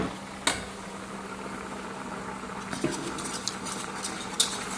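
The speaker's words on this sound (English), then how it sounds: "I will keep stirring it though every once in a while" A utensil stirs a pot of Alfredo sauce just off the heat, with a few sharp metallic clinks against the pot over a steady background hum and no voices.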